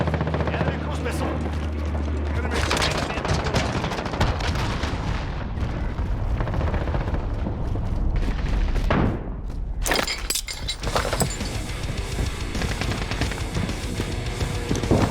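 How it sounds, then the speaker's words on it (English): Cruise missile explosions in the Call of Duty video game, loud booming blasts and shattering debris layered over constant gunfire and battle noise, with a sharp burst near the middle and continued chaotic rumble afterward. "Enemy cruise missile."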